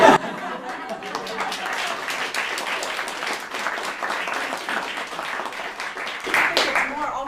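Audience applause at a flute masterclass, a steady wash of clapping from a room full of listeners that holds for several seconds and swells again near the end.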